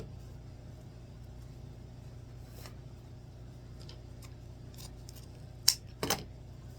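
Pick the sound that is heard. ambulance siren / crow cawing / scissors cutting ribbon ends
scissors cutting ribbon ends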